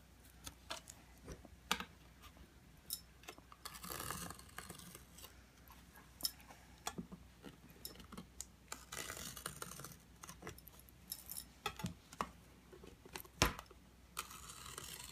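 Covering material on a raised panel door is trimmed with a blade, producing quiet, irregular clicks and scratchy cuts in a close, otherwise still room, with short bursts of scraping.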